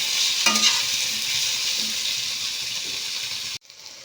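Indian gooseberries (amla) frying gently in spiced oil over low heat, a steady close sizzle with a few soft stirring knocks, ending abruptly near the finish.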